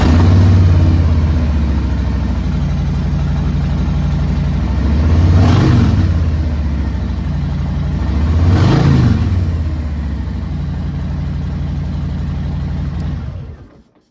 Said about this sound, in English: Sounds really, really nice with those Vance and Hines pipes on it.